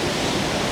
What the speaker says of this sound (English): There's serious waves coming in.